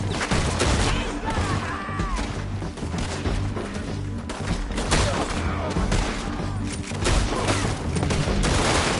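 A chaotic Wild West shootout in Red Dead Redemption 2 with dense, overlapping gunfire cracking throughout, loud and continuous, while voices shout over the shots.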